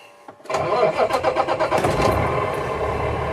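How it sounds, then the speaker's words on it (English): A semi truck's diesel engine cranks with rapid rhythmic pulses, catches, and settles into a loud, steady idle close by inside the cab. "And now we're going to fire up the truck."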